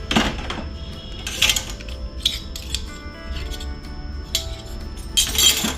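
Dishes, pots, a strainer and other utensils from a Faber 12-place dishwasher clink and clatter in bursts as they are handled and unloaded, close and fairly loud with no talking.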